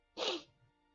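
A single short, sharp nasal sniff or snort, close and fairly loud, with a quick burst of breath that fades within half a second, heard alone without talk.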